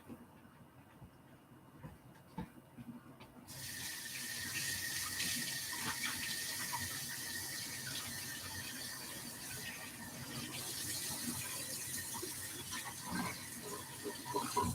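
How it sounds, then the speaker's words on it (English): Tap water running hard into a kitchen sink while a container is rinsed, a steady loud hiss that starts a few seconds in and continues with small clinks and squeaks of handling. "I'm going to undo this and quickly rinse it"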